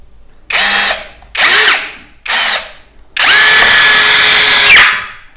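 An APR 13 Pro cordless drill whirs in three short bursts, then a longer sustained run as it bores into coconut wood, loud and close with brief pauses between.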